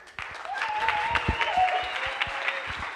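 Applause from an audience at a coding bootcamp final project presentation in Barcelona, a steady patter of clapping with voices mixed in, moderately loud and filling the room.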